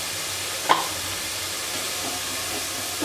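Turmeric and red chilli powder fry in a pan for Punjabi rajma, a soft steady sizzle with a sharp stirring scrape near the start and another at the end.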